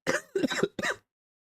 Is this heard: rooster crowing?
no